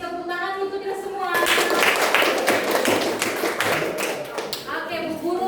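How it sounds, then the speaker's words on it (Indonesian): A classroom of students applauds after a group presentation, a dense burst of clapping that swells and then thins out, with voices briefly heard around it. "Tepuk tangan untuk kita semua"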